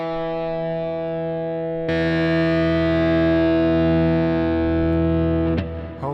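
Electric guitar through a Headrush MX5 modeling an Orange amp with plate reverb plays sustained distorted chords, jumping louder and brighter about two seconds in, then ringing out and fading near the end with no talk.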